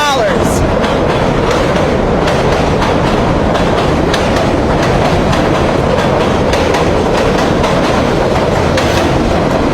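A loud train roars past close by, its wheels clattering in a steady rhythm under a constant heavy rumble; a voice is faintly audible beneath the noise.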